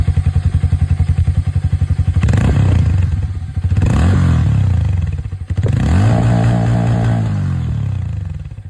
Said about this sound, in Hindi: एक बार मैं आप लोग को इसकी जो एग्जॉस्ट साउंड है वो मैं सुना दूँ।